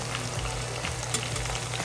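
Hot oil poured over garlic and salt crackles into a loud, steady sizzle that holds for about two seconds, close by, with no voices, while a shrimp, glass noodle and spinach salad is being prepared.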